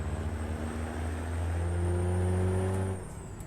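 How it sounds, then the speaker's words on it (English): A heavy truck engine in American Truck Simulator, hauling a flatbed in Utah, drones steadily with deep harmonic resonance, its pitch rising slightly as it pulls, then easing off near the end. "I always love the sound when that engine opens up there, that resonance feeling."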